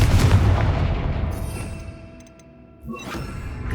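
A Confringo fire spell explodes in Hogwarts Legacy, a loud booming blast with a rumbling tail that fades, then a sharper burst and crackle near the end, with no talking.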